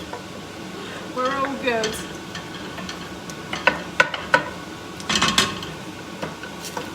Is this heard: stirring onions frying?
yes